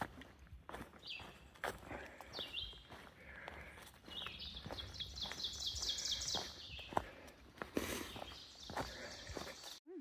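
Small birds chirp busily along a forest trail in August, trilling high notes from nearby trees over the crunch of footsteps on the path, with no talking.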